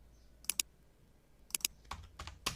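Computer keyboard keys clicked in short quick bursts while a search is typed into ChatGPT, paired taps followed by a denser flurry of typing at the end, close and crisp.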